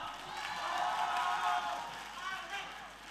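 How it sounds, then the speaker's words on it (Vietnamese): Audience applause and cheering at a university talent show final, following a jump rope performance; a steady crowd wash swells and fades across the clip, with voices mixed in. "Chúng tôi còn nghe tràng pháo tay lớn hơn nữa đúng không ạ?"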